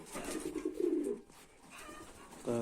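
Soft pigeon cooing comes in short bursts, a rolling throaty call up close, followed by a quieter pause and another coo near the end.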